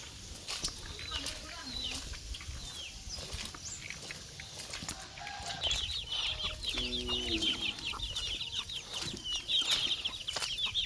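Farm chickens cluck in short, scattered bursts around a rural Thai homestead, fairly faint amid outdoor ambience and other bird chirps, with a few brief clatters in between.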